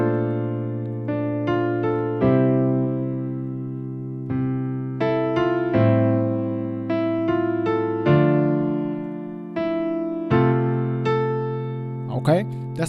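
Solo piano plays section 2 of the verse of a song slowly, with sustained chords struck one after another and each decaying before the next, loud and close.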